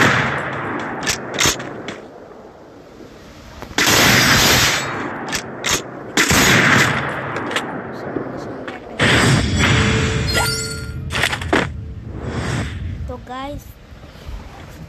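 Weapon fire in the mobile battle-royale game Free Fire, sharp bursts and clanging mechanical clicks of gameplay sounds recurring throughout, with loud impacts and a rapid burst near the end, over a player talking in Bengali.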